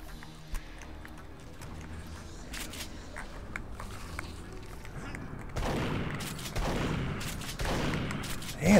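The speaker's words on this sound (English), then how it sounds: "it's like takes two shots of the shotgun to kill him" A shotgun fires repeatedly in the video game Duke Nukem Forever, with sharp blasts spread across the clip and heavier, louder shots near the end, mixed with game noise and some talk.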